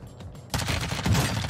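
Gunfire in the video game Warzone 2 breaks out suddenly after a brief quiet, a loud, dense burst of rapid shots that lasts about a second, with no talk.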